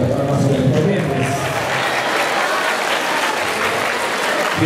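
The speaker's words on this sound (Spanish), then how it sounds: "recibimos con las palmas correspondientes" At a school graduation ceremony, a crowd gives graduates loud, continuous applause, dense clapping with a crowd murmur underneath that holds steady throughout.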